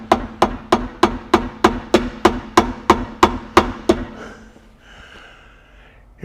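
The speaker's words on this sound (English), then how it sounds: "you're going to have to tap them in with a soft face hammer" A soft face hammer taps a cast spacer into a Ford 8.8 rear axle during a gear swap: about a dozen crisp, evenly spaced strikes close up, then a quieter stretch of faint workshop noise.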